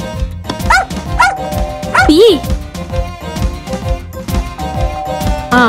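A dog yips and barks in short repeated bursts with a few whining rises during a Telugu film comedy scene, loud and close, mixed with people talking around it.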